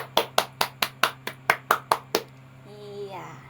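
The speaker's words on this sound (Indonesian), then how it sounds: "Tepuk tangan dulu untuk hasil tugas kalian." Children in a classroom clap in a steady rhythm, about ten crisp, even claps in a row, followed by a short stretch of faint voices and room noise.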